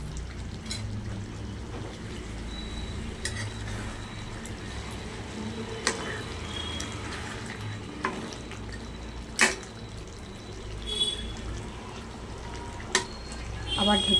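Soaked potatoes go into a pot of chicken cooking in its released juices for a Bengali mint chicken, giving a steady low sizzle with scattered clinks and knocks of the pot and utensil throughout.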